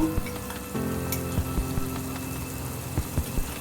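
Spices for a Bengali prawn malai curry fry in a pan with a steady close sizzle, punctuated by a few soft clicks and taps of stirring.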